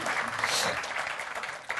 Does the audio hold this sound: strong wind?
no